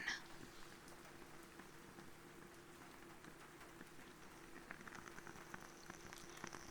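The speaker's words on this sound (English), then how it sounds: "It's a candle and rain." Soft, steady rain patters under a quiet crackle from a burning candle, faint and close, a continuous hiss with tiny irregular ticks and no talking.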